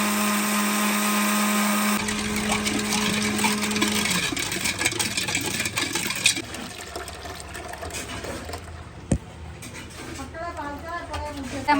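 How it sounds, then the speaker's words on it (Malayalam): A kitchen blender whirs as it makes juice with ice, starting with a steady hum and turning to a rougher, churning grind. People talk over it, and there are occasional clinks. "നമ്മൾ ജ്യൂസൊക്കെ അടിക്കാൻ തുടങ്ങി"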